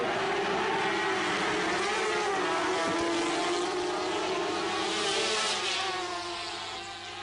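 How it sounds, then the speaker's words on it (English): Racing sidecar outfits with 500cc four-cylinder engines at a 1991 FIM sidecar world championship round in the USA, heard as a sustained, loud, steady engine drone that holds for several seconds before fading slightly at the end. "these outfits use 500cc four-cylinder engines just like the solos"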